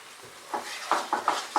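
Spice masala with sugar, chili powder and a splash of water is stirred in a pan for a cauliflower dish. Soft sizzling runs under a quick series of rhythmic scraping strokes, close and moderately loud.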